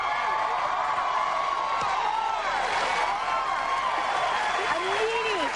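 A studio audience on The Tonight Show in 1998 cheers and applauds a guest, a continuous crowd roar running under a voice that talks over it throughout.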